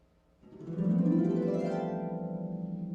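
A normal flux glissando: a resonant pitched tone swells in and sweeps upward through overtones, then rings on sustained and gradually softening.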